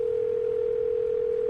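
A telephone call's ringing tone sounds as a single steady electronic tone, loud and unbroken throughout with no voices.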